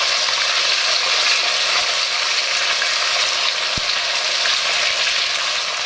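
Water hitting a hot frying pan sets off a loud, dense, continuous sizzle and spatter that holds steady throughout, with one brief knock partway through.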